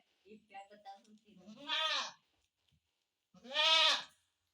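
Goats on a farm bleat twice, loud and near, each a drawn-out wavering cry separated by a pause, preceded by a soft murmur of a person's voice.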